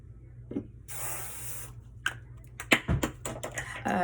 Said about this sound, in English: I'll just go back and do that with the spray